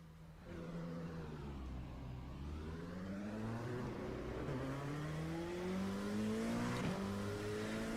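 A race car engine in iRacing drones and climbs steadily through the revs, pausing briefly between gears, a continuous close-up roar that stays even and loud with no talking.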